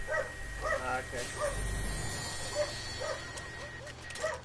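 Several dogs bark and yip in short repeated bursts in the background of a game session, under ongoing talk from a player.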